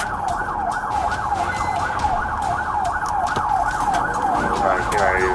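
A police siren wails continuously during a high-speed chase, a rapid warbling tone sweeping up and down loudly over road and engine noise, steady for the whole stretch.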